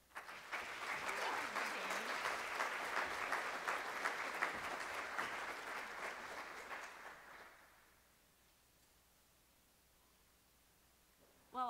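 An audience at a spring education conference applauds to welcome a keynote speaker. The clapping is full and sustained for about seven seconds, fades to near silence, and a voice comes in briefly at the very end.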